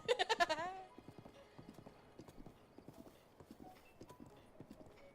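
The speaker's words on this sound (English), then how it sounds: "This is a horse!" Horse hooves clip-clop in a steady trotting rhythm in The Legend of Zelda: Breath of the Wild, opening with a loud whinny and then continuing moderately loud beneath a player talking.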